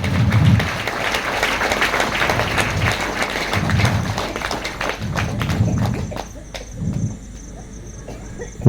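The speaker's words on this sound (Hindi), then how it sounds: "सारे साधकों साधिकाओं एक बार सब एक दूसरे के लिए तालियों की गड़गड़ाहट कर रहे हैं।" Audience at a spiritual gathering on a sankalp yatra in Latehar, Jharkhand, applauding: sustained, dense clapping from a large crowd that swells in waves and then thins out toward the end.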